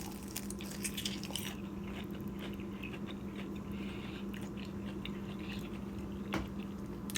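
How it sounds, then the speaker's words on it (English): Crisp, crunchy bites into hot honey fried chicken wings, chewing close up, with a few louder crunches over a steady low hum; no talking. "That's really good. Very crunchy."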